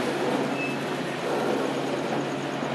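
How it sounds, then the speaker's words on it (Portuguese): A freight train hauling steel billets, led by an SD40-3 locomotive on the MRS Santos–Jundiaí line, rolls past in a dense, steady rumble of wheels and cars that holds an even loudness throughout with no voices. "esse é o trem de tarugo aí"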